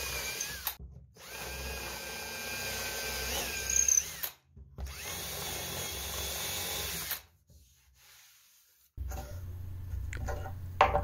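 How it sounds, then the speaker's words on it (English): Power drill boring holes through cabinet side panels for model railroad benchwork, whining in several close bursts separated by short pauses, the last burst lower and grinding. "I'm going to speed things up here as I drill the rest of the holes for the side panels"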